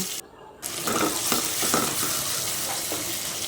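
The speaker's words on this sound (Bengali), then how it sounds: "এর ভিতরে আমি পেঁয়াজ কুচি দিয়ে সুন্দর করে" Chopped onions hit hot oil in a pot and sizzle loudly and continuously, with a few stirring scrapes over the steady frying hiss.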